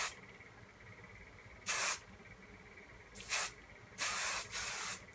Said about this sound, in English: So there's the roll, and I'm just gonna spray.